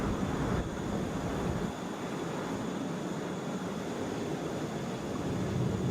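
A United Airlines Boeing 737 on approach to Atlanta's airport, arriving from Chicago, makes a steady, broad roar that holds evenly loud the whole time, with no voices.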